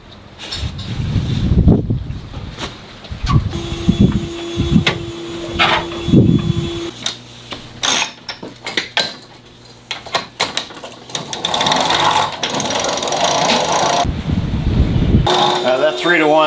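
A sail is hoisted by hand with a 3-to-1 purchase, giving bursts of clicking ratchet and block-and-line mechanism noise between pauses, with wind rushing in the background.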